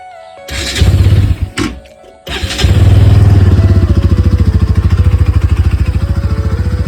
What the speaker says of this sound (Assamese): বাইকৰ ইঞ্জিনটো চালিয়া হৈ আছে, বাইকৰ একো প্ৰব্লেম নাই।